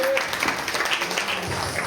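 A scattered round of light hand clapping from a small group of children, moderately loud with a busy, uneven rhythm, some voices mixed in.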